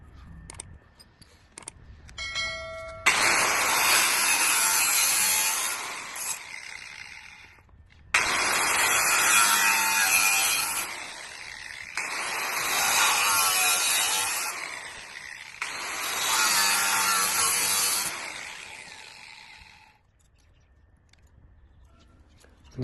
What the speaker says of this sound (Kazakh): Содан соң болгаркамен кесетін боламыз.